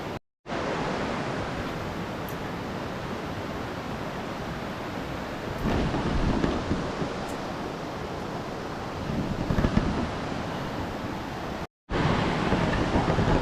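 The Balangikog waterfall in Baungon, Bukidnon, rushes as a broad, steady roar of falling water heard close up, continuous apart from two brief cuts.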